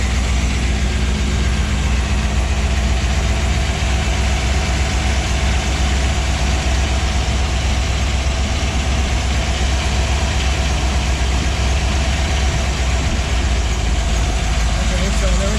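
A 440 Six Pack V8 idles loud and close after a choke adjustment, with a steady low rumble throughout and a voice talking over it.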